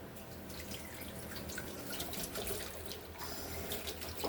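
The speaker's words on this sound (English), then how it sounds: "So the first thing we're going to do is wash all of our eggshells up." Eggshells are rinsed under a running kitchen tap, with a steady close stream of water splashing and trickling into a sink for the full few seconds.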